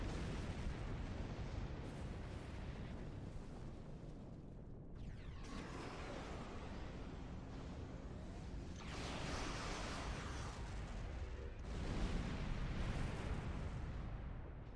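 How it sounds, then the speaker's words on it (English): Explosions rumble through a Star Trek Online space battle, a dense wash of booming blasts and crackling bursts rising and falling in waves, with heavier detonations clustered near the end over continuous combat noise. "And not fly into another explosion."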